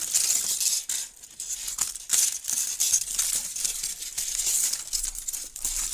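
Aluminium foil crinkles and rustles continuously up close, bright crackling bursts rising and falling as it is handled.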